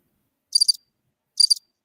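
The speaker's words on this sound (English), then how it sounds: "crickets, y'all got crickets now?" Two short cricket chirps, each a quick high-pitched trill, spaced nearly a second apart against complete silence, clear and close.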